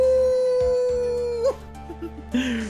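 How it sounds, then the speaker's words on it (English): A dog howls in Ace Attorney: Trials and Tribulations, one long steady wail that bends and breaks at the end, followed by a few short yelps and a rising final cry over game background music. "That sounded like a woof howl."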